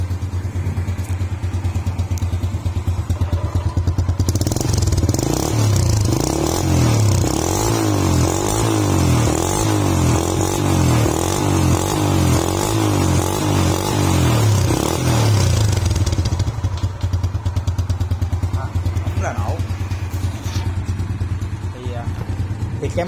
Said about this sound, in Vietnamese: Rồi giờ mình sẽ nổ máy nha nè, nổ máy anh em xem nha.